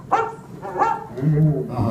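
A dog barks in the Disney Carousel of Progress animatronic show, a few short near barks mixed in with people talking.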